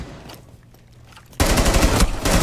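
Sudden loud machine-gun-like gunfire in a video game breaks in after a quiet moment, a dense rapid stream of close shots that continues to the end.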